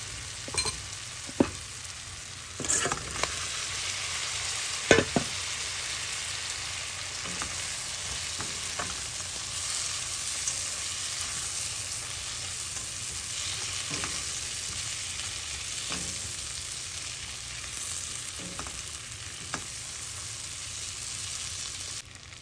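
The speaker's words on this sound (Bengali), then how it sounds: "ভেজে রাখা কাঁচা কলাগুলোর ভিতরে দিয়ে দেবো। দিয়ে মশলার সাথে একটু কষিয়ে নেব।" Fried raw banana pieces frying in spice masala in a pan: a steady soft sizzle throughout, broken by scattered clinks and scrapes of stirring, with no talking.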